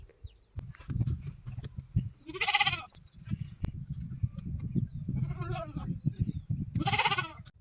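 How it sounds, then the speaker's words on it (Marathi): Goats bleating as they are released on a village farm, three distinct wavering bleats spaced a few seconds apart, close by, over a low rumble of footsteps and farmyard shuffling. "तर चला पहिलं शेळ्या सोडून घेऊया आपण"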